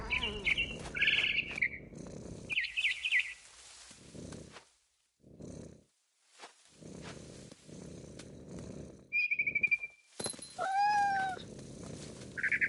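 A cat in the game What Remains of Edith Finch gives several meows among bursts of low purring rumble and a few bird-like chirps, with short quiet gaps between.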